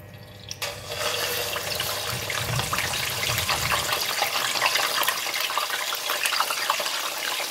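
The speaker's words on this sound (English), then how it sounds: "I'm going to quickly wash up my hand" Hands washed under a running kitchen tap, a steady loud close rush of water that begins abruptly and continues without breaks, with faint splashing and no speech.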